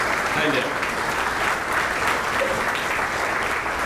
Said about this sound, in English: let's just give a nice applause for Ned Cochran